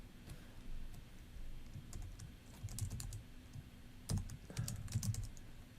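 Quiet typing on a computer keyboard, a steady patter of soft keystrokes with a brief faster burst near the end, heard alone against low background hum.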